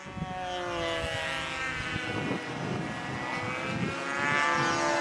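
A control-line model airplane engine at a Brodak fly-in, one engine reported flooded, runs with a steady high-pitched propeller drone, loud and close, holding throughout with slight rises in level.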